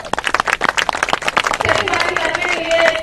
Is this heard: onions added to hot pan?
no